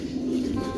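A pet breeding pigeon gives a single short, low cooing call, close and clear.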